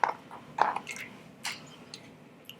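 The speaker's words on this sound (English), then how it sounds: "And then they go into the water," Raw potato slices drop into a bowl of water, making a few soft, wet plops and squishy splashes, close but quiet, with no one speaking.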